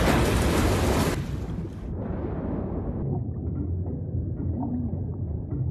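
A sudden thunderstorm strikes around a helicopter: a loud, steady wash of heavy rain under deep rumbling thunder, fading to a duller roar.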